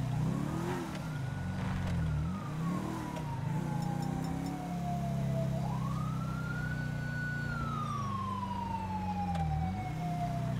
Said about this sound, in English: There's probably another ambulance going over there.